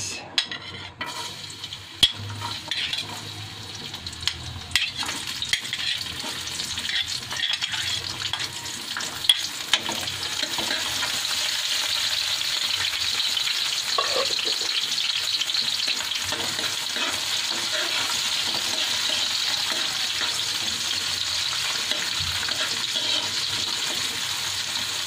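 Onion and garlic sauté in a hot pan, sizzling steadily at close range for the whole stretch, with occasional stirring clinks early on and no talking.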